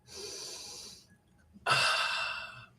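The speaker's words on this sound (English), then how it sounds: "Take a deep breath." A group takes a deep breath together: a long airy inhale, a short pause, then a louder, rushing collective exhale, close and with no talking.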